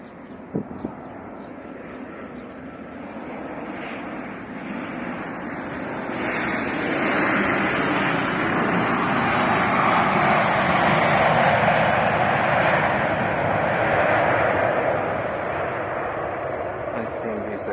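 Transavia passenger airplane from Rotterdam at Alicante airport at sundown, a broad steady jet roar that swells after a few seconds and holds loud, fairly near, with no talk over it.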